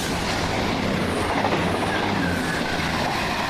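A train on the railway line, a Newcastle to Reading service, rolls past with a steady continuous rumble and wheel noise, moderately loud throughout.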